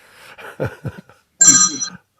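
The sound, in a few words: telephone ringing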